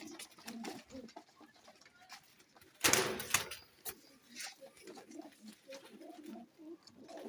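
Pigeons cooing softly in a rooftop loft among about twenty birds, low murmuring coos repeating over several seconds, with a brief louder clatter partway through.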